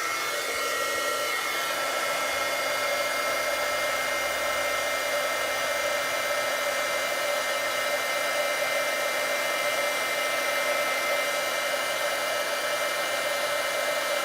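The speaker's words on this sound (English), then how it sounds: "Okay, now I'm going to heat emboss." A heat embossing tool blows steadily and loudly throughout while paper craft embossing powder is melted on a gift card holder, a constant airy whirring hum with no talk.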